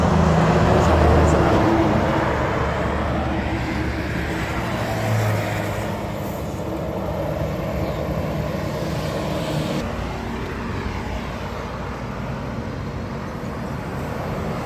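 Trucks rumble along a main road as steady traffic noise. The passing engines swell loudest early on and then ease into a constant broad roar.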